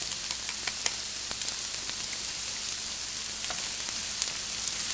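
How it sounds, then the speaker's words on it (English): Onions, minced ginger and garlic sautéing in a pan over medium-high heat for Thai red curry, a dense, steady crackling sizzle with rapid tiny pops throughout. "I'm going to saute this for about 5 minutes."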